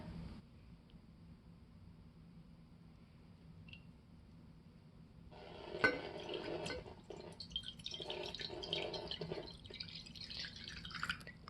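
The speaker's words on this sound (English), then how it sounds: "Now we're going to add our water." Water is poured over a whiteboard marker drawing, starting with a faint drip and then a soft, close trickle and splashing that carries on to the end without talk.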